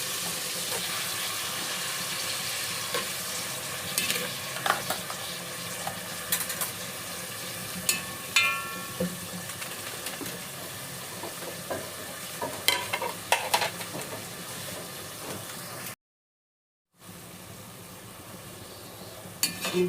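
Chicken sizzling in a pot for creamy chicken sopas, with a steady fry and irregular clinks and scrapes from stirring, close up; a brief silent gap near the end before the sizzle resumes.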